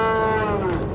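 A dairy cow on a farm gives a single, loud, close moo with a falling pitch that fills the whole second, with no talking over it.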